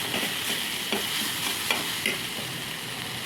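Vegetables for a semolina snack filling frying in a pan, an even close sizzle punctuated by a few soft spatula taps and stirs.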